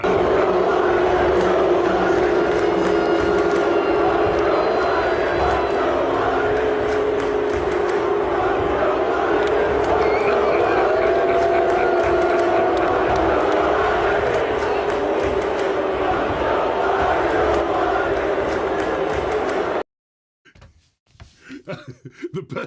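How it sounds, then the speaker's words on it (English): Loud, continuous crowd roar and chanting fills a debate venue for about twenty seconds, then cuts off abruptly into near silence with faint scattered noise. "maybe the FJB call is just so loud"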